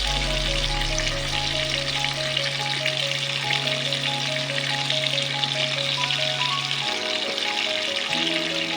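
Marinated spiced cauliflower florets hit hot oil in a wok with a loud, steady sizzle that holds throughout, broad and close, with no talking over it.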